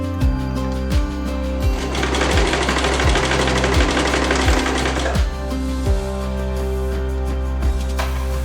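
A sewing machine stitches a crochet pillowcase together, its needle clattering in a steady rapid run with regular periodic thumps, close and fairly loud, with no talking.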